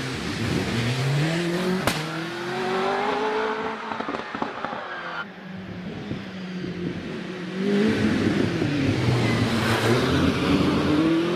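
A race car with a big 4-litre engine tackles the Prescott hill climb, its engine revving hard and changing pitch through gear shifts as it passes, loud and continuous with a brief sharp crack near the start.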